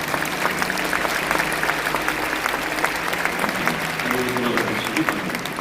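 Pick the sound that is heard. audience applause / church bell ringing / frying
audience applause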